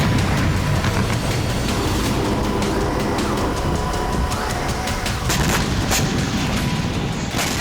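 Continuous loud rumbling with repeated sharp booms and cracks of dozens of explosions from a drone attack on Russian airbases, heard at a distance, dense and unbroken throughout.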